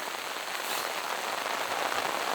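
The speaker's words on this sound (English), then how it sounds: "Folks, it's raining." Heavy rain during a storm while camping in the bed of a Toyota Tundra, a dense continuous hiss of drops pattering on surfaces with scattered sharper taps, steady and close.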